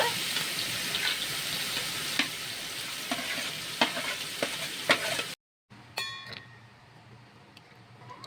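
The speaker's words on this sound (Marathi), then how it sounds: "कांद्याला चांगला फ्राय करायचा मस्त" Chopped onions frying in a pan for egg bhurji, a close steady sizzle broken by regular spatula stirs and scrapes, then a brief silence and quieter sizzling.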